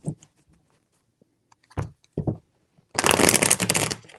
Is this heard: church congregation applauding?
no